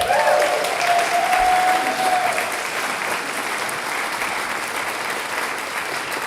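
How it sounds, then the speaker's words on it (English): An audience gives a round of applause for Kurt Wackerly, a steady dense wash of clapping from a sizeable crowd that stays fairly even and eases slightly after the first seconds, with a brief voice-like tone early on. "I'd like to give Kurt Wackerly another round of applause."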